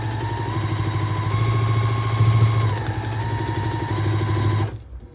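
A sewing machine stitches a vintage kite foundation paper quilt block, a steady close mechanical hum with a rapid needle rhythm that runs continuously and then stops abruptly near the end.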